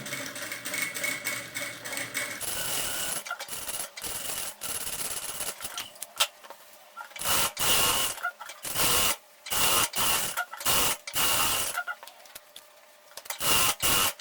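A sewing machine stitches all the way around a baby's travel toiletry bag with a portable changing pad, joining the lining to the outer fabric, in stop-and-start bursts of mechanical whirring and clicking with short pauses between runs.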